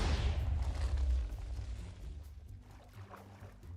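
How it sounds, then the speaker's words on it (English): A large TNT explosion in Minecraft, a deep booming blast that opens loud and heavy and then rolls off into a long rumbling tail, with no voices over it. "possibly the single biggest explosion so far"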